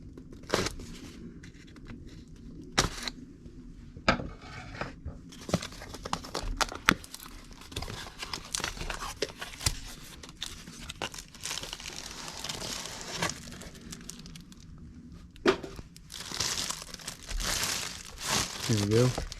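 Box cutter slicing open Tactacam Solo Xtreme POV camera packaging, with soft crinkling, scraping and tearing of cardboard and plastic up close, several sharp clicks, and brief talk nearby.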